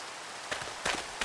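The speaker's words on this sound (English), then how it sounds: "it started raining, meaning clay bombs will not work" Rain falls in hardcore Minecraft as a steady, faint hiss, broken by a few brief soft thumps and scuffs.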